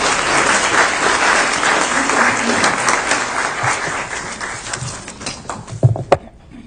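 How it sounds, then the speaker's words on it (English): Applause for a school principal at a school board meeting, a full room clapping steadily and loudly for several seconds before tapering into a few last claps. "Let's give her a round of applause"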